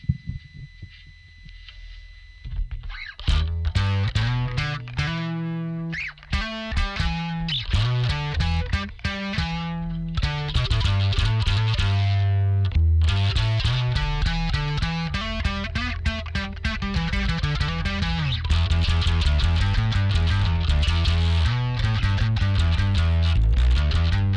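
A bass guitar through a Tech 21 dUg Pinnick Signature DP-3X distortion pedal plays a gritty, throbbing riff, with deep sustained notes and growling overtones that grow denser and louder after a quiet start.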